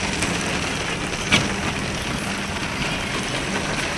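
Steady, dense rain hisses without a break around the parking areas of a motor racing circuit in Nova Friburgo, Brazil, with one brief louder patter in the middle.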